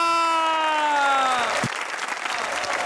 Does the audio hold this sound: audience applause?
yes